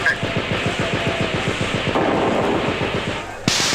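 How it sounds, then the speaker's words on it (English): A grenade blast in a first-person shooter game arrives amid a rapid run of gunfire cracks and a rumbling boom, followed by a sudden sharp burst near the end. "How about another grenade?"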